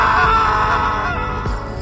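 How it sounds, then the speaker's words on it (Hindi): A loud, sustained scream rings out in a horror story setting, a harsh shrieking cry that echoes and slowly fades over a dark rumbling background. "फिर एक तेज चीख की आवाज आती है, इतनी तेज कि पूरे गेस्ट हाउस में गूंज गई।"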